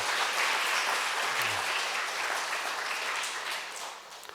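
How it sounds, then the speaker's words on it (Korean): A church congregation applauding during a Sunday service, a broad, even wash of many hands clapping that holds steady and fades slightly toward the end, with no speech over it. "박수 한번 보내주시죠."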